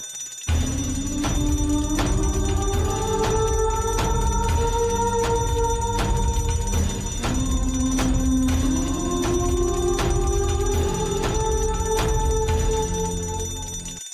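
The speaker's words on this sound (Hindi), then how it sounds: "इसलिए अलार्म ऑन हो गया था" A house alarm, set off by lit candles in a bedroom, rings continuously and loudly as a repeating electronic tone with gliding pitch sweeps, alone without talk.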